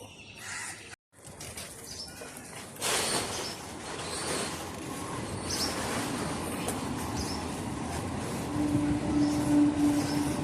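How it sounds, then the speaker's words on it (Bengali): A train rumbles past nearby, growing louder over about ten seconds into a steady rolling roar of wheels on track, with a faint high squeal near the end and birds audible in the background. "এই ট্রেন চলে গেল"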